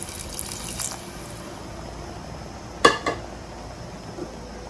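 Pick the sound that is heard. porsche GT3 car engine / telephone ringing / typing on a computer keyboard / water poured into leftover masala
water poured into leftover masala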